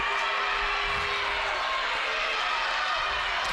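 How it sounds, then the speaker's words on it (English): Volleyball crowd at a Cedarville University home match against Trevecca Nazarene cheering at set point, a steady roar of voices filling the gym with no break. "Crowd starting to give the enthusiasm and the emotional boost that Cedarville needs at this point"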